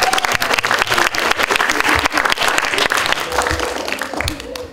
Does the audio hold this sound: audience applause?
yes